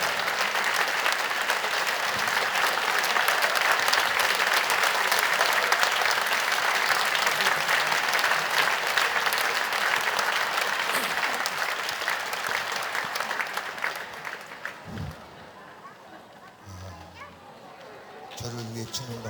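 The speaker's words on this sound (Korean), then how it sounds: "저를 위해 치는 박수는 아니죠." A church congregation at a Sunday evening summer Bible school report service claps in loud, dense, sustained applause for about thirteen seconds. It then thins and fades as scattered voices and small sounds remain.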